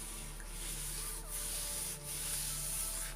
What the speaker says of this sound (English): So the nylon against the leather